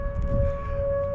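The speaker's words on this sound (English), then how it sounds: "Testing the tornado sirens and whatever else kind of siren." An outdoor tornado warning siren sounds during a test, holding a steady, loud, sustained tone over a low background rumble.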